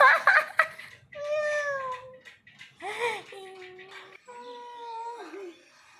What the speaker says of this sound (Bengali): এমা বিড়াল ডাকছে কেন আমার গান শুনে